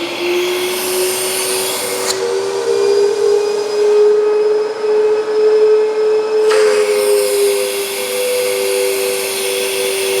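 An MD S900R central vacuum runs steadily at full suction, a loud continuous motor whine with a sustained tone that shifts slightly partway through as airflow changes, alone without talk.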